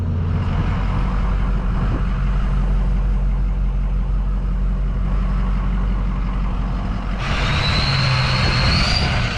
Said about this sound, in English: on the truck here is a built 6-liter diesel engine from Ford